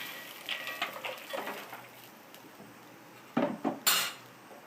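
Sprouted beans are tipped into a pan for a thoran and stirred, with metal utensil scrapes and clatters against the pan, a few soft stirring strokes and then sharper, louder clanks near the end.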